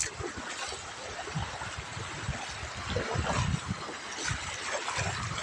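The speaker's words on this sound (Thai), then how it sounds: "คลื่นยังแรงอยู่ครับ" Strong monsoon-season sea waves surge and wash around fishing nets in full water, a close, churning rush with irregular low thumps and splashes.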